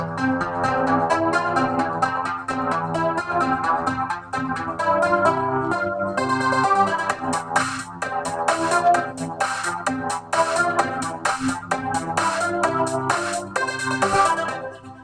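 A looping electronic melody with steady chords plays in FL Studio, and around the halfway point a crisp drum beat joins in and continues to the end.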